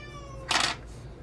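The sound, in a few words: cat meowing, whining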